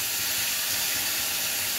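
Onions added to a pan of fried fish and potatoes for a home-style fish curry, giving a steady, close broadband sizzle and hiss with no talking.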